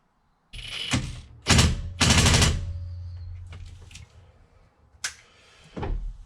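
An impact gun working a Torx bolt loose from a car steering wheel: several short, loud rattling bursts of the tool separated by pauses, with a faint mechanical hum in between and a final short burst near the end.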